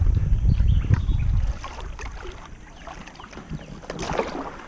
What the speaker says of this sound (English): let's paddle nice and easy down here